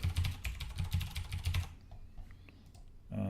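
Fast clatter of fingers typing sign-up details on a computer keyboard, dense keystrokes for about a second and a half, then a few sparse taps with a quiet pause before a low rumble returns.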